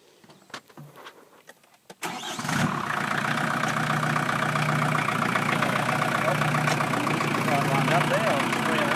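Rear mount forklift on an AGT machine driving into position, its mid-pitched engine starting up after a quiet moment and then running steadily and loudly close by.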